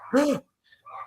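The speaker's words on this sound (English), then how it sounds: "My wife and daughter just got home, and so the dogs are excited." Excited pet dogs at home let out one loud, close bark or yelp, followed by a couple of fainter whining yips.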